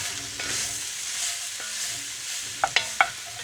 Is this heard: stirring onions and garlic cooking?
yes